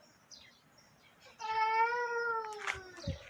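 A single drawn-out cat meow sounds close by against a quiet background, followed by a few faint rustles.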